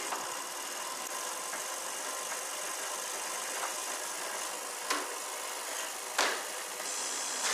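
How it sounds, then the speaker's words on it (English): Electric motor of a 20-frame honey extractor spinning honeycombs, a steady faint mechanical whir and hiss with a couple of soft knocks, continuous and even. "By turning a switch, an electric motor spins the combs."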